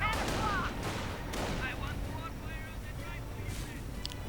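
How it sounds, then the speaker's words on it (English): Hotchkiss tank's 37mm gun firing in a real-time strategy video game, heard as a few sharp cannon reports over steady engine rumble and battle noise, with a commentator talking over it. "Firing away with the 37mm gun."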